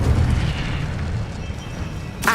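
An Incendio fire spell is cast in Hogwarts Legacy, a loud, sustained roaring whoosh of flame that fills the clip, ending with a sharp burst near the close.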